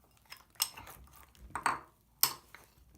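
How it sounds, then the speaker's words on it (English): A utensil scrapes and clinks against a bowl while fluffy slime is stirred with activator, giving several sharp taps and a sticky squelch amid quiet pauses. "You'll need a little more activator, and you'll stir again."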